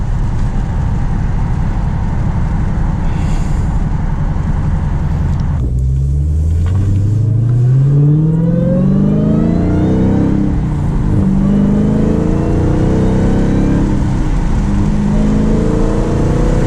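A 2020 Dodge Challenger Hellcat Widebody's supercharged engine pulls hard at half throttle, a loud, steady rumble rising in pitch through successive gears with brief dips at each shift, close and continuous.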